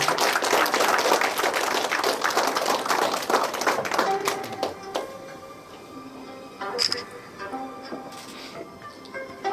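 Applause from an audience at a traditional Korean coming-of-age ceremony, dense, steady clapping for several seconds that thins into scattered claps and room murmur.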